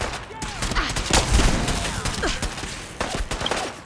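Crossbow bolts striking with a wide area-of-effect blast in Fallout 4, heard as a dense, loud run of overlapping bursty impacts and crackling debris throughout.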